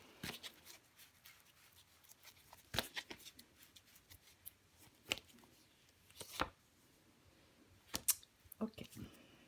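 Tarot cards handled and laid down on a table, giving sharp intermittent clicks and soft slaps spaced a second or two apart, quiet and close, with faint rustling between.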